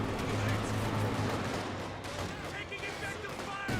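Infantry rifle and machine-gun fire crackles through a Company of Heroes 2 battle, a dense, unbroken barrage of shots with someone talking over it throughout.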